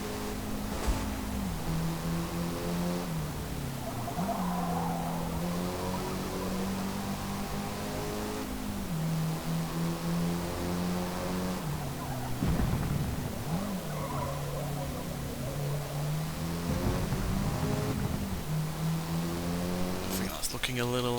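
Engine note of a Golf R lapping Laguna Seca in Forza Motorsport, a steady droning rev that rises and falls through gear changes with tyre noise, continuous and loud throughout.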